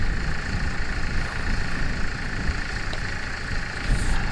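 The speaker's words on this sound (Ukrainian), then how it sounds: "на нагрузку трактор йшов" A steady, rumbling ArmaTrac 1104 110 hp tractor engine drones on continuously under load pulling a Taurus 3.4N disc harrow, with a low, heavy texture, loud and close, without any talking.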